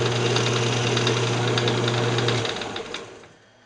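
A fingernail gouge cutting wood on a lathe during off-center turning, a loud close steady motor hum with a gritty scraping tone that winds down and fades near the end.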